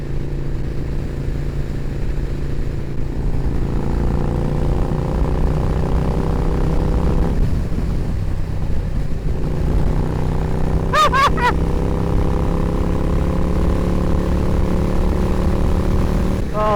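A motorcycle engine drones steadily throughout, its pitch shifting slightly as it rides, with faint wind noise.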